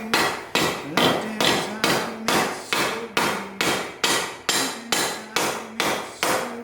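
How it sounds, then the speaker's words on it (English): Loud, evenly spaced hammer blows, about a dozen in a steady rhythm, fit a rear bumper onto a budget FSJ Cherokee Chief rock crawler before tack welding. Each strike rings sharply, then decays. "I'm gonna hammer this on, and then we're gonna see if we can get this tack welded all together."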